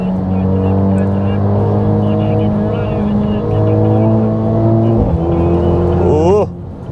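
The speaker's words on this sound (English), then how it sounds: "listen to the bark of the engine." A Mercedes-AMG SL43 engine roars loudly as it accelerates around Kyalami Raceway, pitch climbing through gears with a sharp rev near the end before dropping off.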